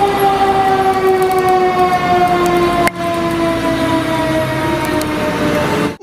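Toy fire truck siren wailing loud and close in a steady electronic tone that bends slightly in pitch, with a brief click midway.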